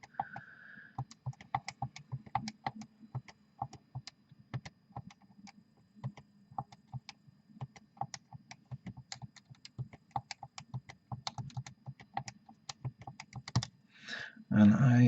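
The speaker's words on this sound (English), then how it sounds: "If you heard me typing away" A computer keyboard typed on quickly while adding up a list of numbers: dense, uneven clicking keystrokes running for about fifteen seconds, with a short bit of talk near the start and at the end.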